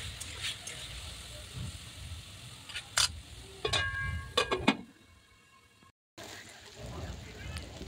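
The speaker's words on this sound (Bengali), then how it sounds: "অল্প পরিমাণে সাদা তেল দিয়ে কেটে রাখা কুমড়োগুলো হালকাভাবে নাড়িয়ে নেব, হালকাভাবে ভেজে নেব যেন সেদ্ধ হয়ে যায়" Pumpkin pieces frying lightly in white oil in a wok, heard as a low sizzle and hiss with a few sharp clatters of stirring, a short silent gap, then the sizzle resumes.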